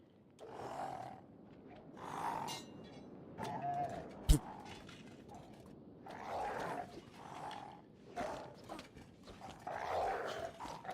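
A dog in the video game Kenshi barks repeatedly in gruff, roaring bursts at a moderate distance, spaced across the stretch with one sharp louder hit midway, over a low steady background.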